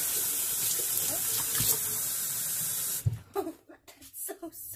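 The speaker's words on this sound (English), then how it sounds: "let's get some soap and water going in this real quick." Water running from a tap into a sink while washing out a bowl with soap: a loud, steady hissing rush of close flowing water for about three seconds, then cutting off to a few softer splashes and drips.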